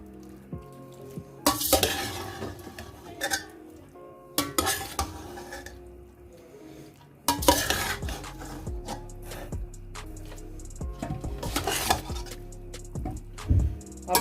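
Chicken noodles being stirred in a cooking pan, with sharp clanking bursts of a utensil scraping and knocking the metal over a soft sizzle, irregular and close, without talk.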